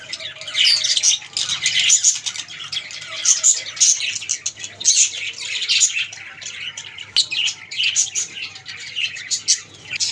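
Many parrots chirp and squawk at once, a dense, constant chorus of shrill calls close by with no pauses.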